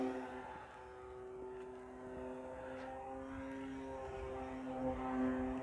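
The small engine of an FMS Pitts 1400mm RC plane whines at a high, steady pitch, holding near full power as it passes down the runway, with a faint rising and falling tone.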